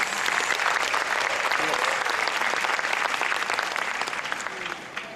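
Sustained applause from a Rotary and Inner Wheel club audience in India, steady and evenly dense clapping that fills the room and eases slightly at the close.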